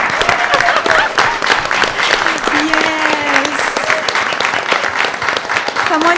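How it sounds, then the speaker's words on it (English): Audience at a school board meeting applauds an inaugural school swim team, steady loud clapping filling the room for several seconds, with a brief spoken word and cheering mixed in. "this deserves a round of applause, everyone, because this is an inaugural swim team"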